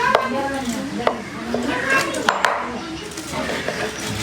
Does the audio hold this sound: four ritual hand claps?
no